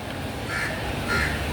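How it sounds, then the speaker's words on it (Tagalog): A bird at a local wet market gives two harsh, crow-like caws about half a second apart, loud and close, over a dense noisy market background. "ibon yata yan"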